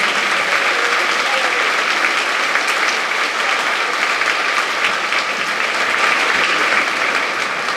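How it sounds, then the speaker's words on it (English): Sustained applause from a large school assembly crowd honoring veterans on Veterans Day, continuous dense clapping at even loudness throughout without letup. "Please join me in round of applause for our veterans."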